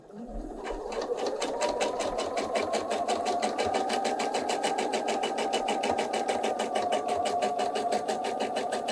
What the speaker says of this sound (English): I'm going to sew right on that line